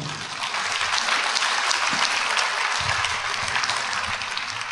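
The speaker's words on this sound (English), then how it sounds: "Can we have a round of applause for him?" A church congregation claps steadily for several seconds, a dense, even patter of applause with no voices on top.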